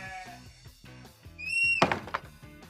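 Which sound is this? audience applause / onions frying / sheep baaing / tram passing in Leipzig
sheep baaing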